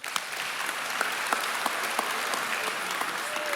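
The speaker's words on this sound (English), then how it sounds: "Give him a round of applause." A crowd at a varsity sports awards ceremony applauds a first-year player, sustained even clapping from many hands, a little distant and filling the room throughout.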